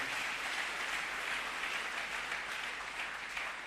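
Church congregation applauding during a French-language worship service, steady sustained clapping from many hands that sounds fairly distant and continues evenly throughout.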